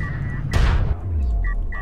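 A turret collapsing in the strategy game Homeworld: Deserts of Kharak, heard as one broadband crash of debris that lasts about half a second, with low rumble and tonal game effects around it.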